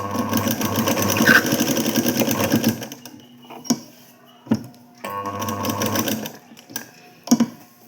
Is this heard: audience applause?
no